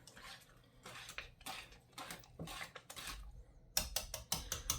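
A pot on low heat holds a melting mixture being whisked. Metal clinks and scrapes against the pot come in irregular bursts, quiet at first, then sharper rapid taps near the end, with no voices.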